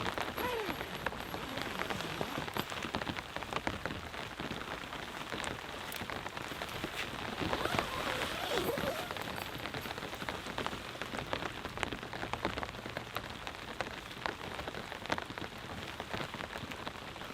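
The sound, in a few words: heavy rain falling on bivy tent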